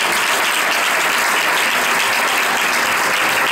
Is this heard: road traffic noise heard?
no